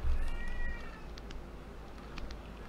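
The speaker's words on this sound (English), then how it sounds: "I think I heard one of my cats bellowing" A pet cat gives a drawn-out, wavering meow at the start, then quieter faint cries and soft clicks over steady room noise, somewhat distant and with no talking.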